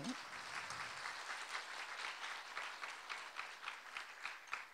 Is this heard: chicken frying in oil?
no